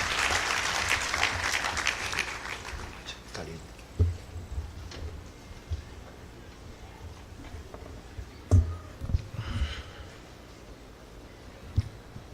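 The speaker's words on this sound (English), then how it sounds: "Give him a mighty clap as he comes." Audience clapping at a university graduation ceremony as the Chancellor walks up, a broad wash of applause that is strongest at the start and then thins to a scattered patter with a few louder single claps.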